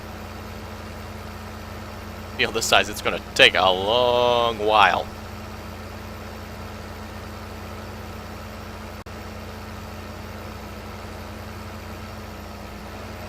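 A tractor engine in the video game Farming Simulator 15 drones at a steady low idle throughout, while someone speaks briefly over it near the start.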